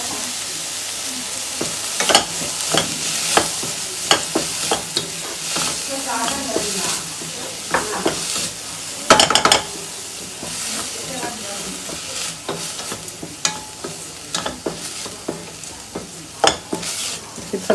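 Food fries in a pan with turmeric powder and salt, a continuous sizzle broken by repeated sharp scrapes and taps of a spoon, one burst of loud clatter midway.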